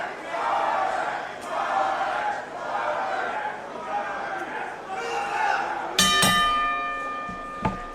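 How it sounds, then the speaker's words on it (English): A wrestling match opening bell rings at a GCW event in Houston, sharp metallic strikes cutting through loud crowd noise and chanting, with a commentator talking throughout. "Opening bell sounds, the action about to get underway between these two."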